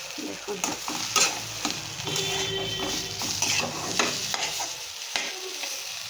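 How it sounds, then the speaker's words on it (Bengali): Food frying slowly over low heat in a pan, a steady soft sizzle with occasional scraping and stirring clinks from a utensil, close and continuous throughout. "তো সেই জন্য হালকা আঁচে ভালোভাবে ভেজে নিচ্ছি।"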